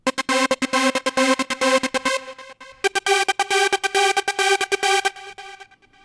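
A bright, buzzy supersaw synth chord in 90s trance style, chopped by an arpeggiator in Reason, plays in rapid stabs, pausing briefly before the pulsing pattern resumes, loud and alone.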